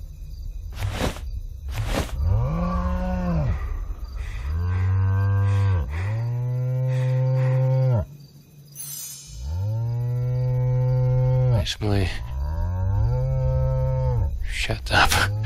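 Cattle in the PC role-playing game Sacred moo loudly and repeatedly, several long, drawn-out calls one after another, with a voice cutting in briefly between them.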